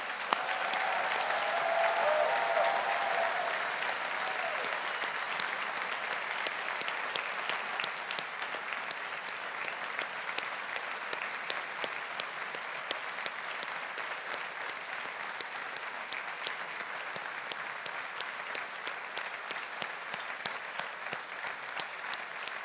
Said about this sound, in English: That was the best applause I've heard all week.